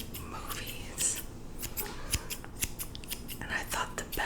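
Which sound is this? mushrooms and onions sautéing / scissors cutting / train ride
scissors cutting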